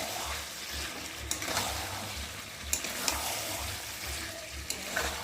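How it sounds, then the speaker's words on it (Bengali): Chicken kosha stirred in a frying pan, giving a soft, continuous sizzle with occasional light scrapes of the spoon, heard fairly quietly and close. "দিয়ে দেবো একটু মিট মশলা, দিয়ে একটু ভালো করে নেড়ে চেড়ে নেব"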